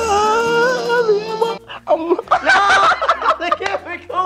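A person's voice imitates a hungry small child whining and fussing to be fed, with a drawn-out, wavering whimper. It breaks into snickering laughter and chatter.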